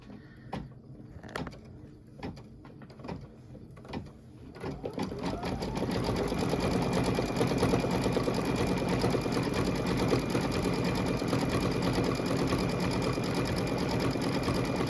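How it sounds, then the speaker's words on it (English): An embroidery sewing machine runs a decorative satin-style stitch, opening with a few sparse clicks before settling into a loud, fast, continuous mechanical whir with rapid needle chatter, no voices. "Now it's going to do a, I believe, satin stitch here."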